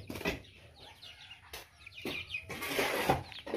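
Chickens cluck in a series of short, uneven calls close by, with some wing flapping, left outside after heavy rain on a small farm where other birds drowned.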